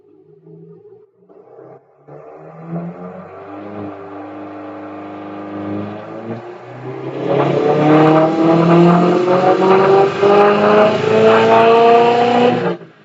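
2011 Subaru STi hatchback engine revving under load, a rising droning engine note whose pitch wavers and pulses as the boost control oscillates, growing louder and harsher midway through.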